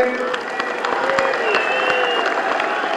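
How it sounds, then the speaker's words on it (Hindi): Steady applause from a crowd at a BJP political rally fills the clip, dense clapping with a few louder claps standing out, and some voices mixed underneath. "जोरदार तालियां"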